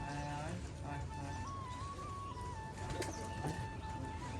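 Pigeons at a Rajshahi pigeon farm, colour-matched Giribaz birds, coo and call while pecking at grit. The sounds are steady, close and mixed, running under continuous talking.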